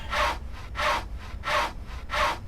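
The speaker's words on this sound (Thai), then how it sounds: "ปกติ เลื่อยโต๊ะซะ" A wooden table is sawn in a Thai survival video game set in a 40-storey building, with four steady rasping strokes in an even back-and-forth rhythm, loud and close, with no talk.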